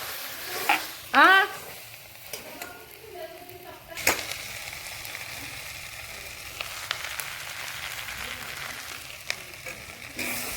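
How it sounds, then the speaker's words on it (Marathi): Soft sizzling of whole spices, including shahjeera and black peppercorns, roasting in oil in a large wok, broken by clattering utensil knocks and a few scrapes against the pan, with a brief faint voice early on. "मोठ्या कढईमध्ये आम्ही तेल घालून भाजणार आहोत"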